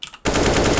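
A short burst of AK rifle fire from CS:GO on the Mirage map breaks out suddenly after a brief quiet moment, loud and close, with shots rattling in rapid succession.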